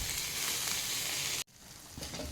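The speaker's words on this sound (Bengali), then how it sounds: "মশলাটা একটু ভাজা ভাজা হয়ে এসছে" Ground cumin, coriander and turmeric masala frying in a pan for a broccoli dish, a steady close hissing sizzle that cuts out abruptly for a moment and then resumes more softly.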